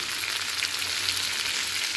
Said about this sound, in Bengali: এবার আমি নাড়াচাড়া করে সুন্দর করে ভেজে নেব